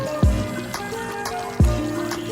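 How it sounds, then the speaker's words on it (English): Chicken curry bubbling and popping in a pot, with two loud low bloops standing out over a steady simmering gurgle. "It's still boiling."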